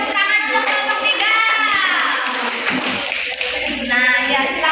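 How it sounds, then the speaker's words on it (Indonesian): A class applauds for group 3 during a primary-school science lesson on photosynthesis, a steady wash of many hands clapping that stays loud for about five seconds, with children's voices mixed in. "beri tepuk tangan untuk kelompok 3"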